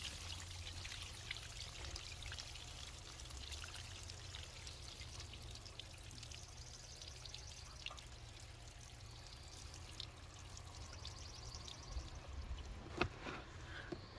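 Water draining out of straw soaked overnight in a bucket for growing mushrooms, a continuous soft trickling and pouring that stays steady and fairly faint, with a few small splashes near the end.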